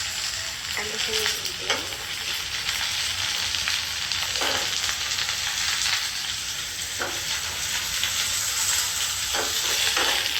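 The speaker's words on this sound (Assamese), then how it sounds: "এনেকৈ মই আলুখিনি অলপমান ভাজি লওঁ।" Diced potatoes fry in a pan already holding onions, ginger and garlic, giving a steady, close sizzle throughout, with a few louder stirring scrapes along the way and no voices.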